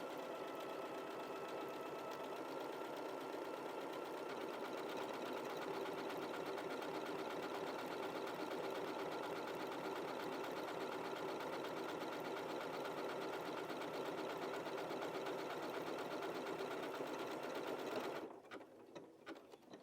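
Sewing machine running steadily while stitching a one-step buttonhole on a quilted Spring Fever cushion block, a loud continuous rapid needle chatter that stops abruptly near the end.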